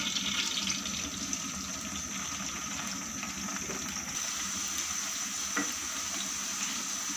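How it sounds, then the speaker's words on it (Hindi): Okra frying in hot oil over a medium flame, a steady dense sizzle and crackle running continuously with a faint clatter now and then, close and fairly loud with no voices. "ऑयल थोड़ा सा गर्म हो जाए, मीडियम फ्लेम पर भिंडी को फ्राई कर लेना है।"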